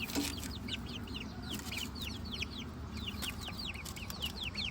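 Bantam chickens clucking and chirping continuously in short, repeated calls, moderately close, over a steady low background hum.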